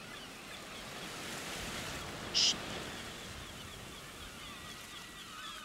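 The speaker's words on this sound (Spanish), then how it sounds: "Ahora, en exclusiva, el ruido del mar." Ocean waves wash in a soft, distant, steady roar with a slight swell in the middle, quiet and alone apart from a brief high chirp partway through.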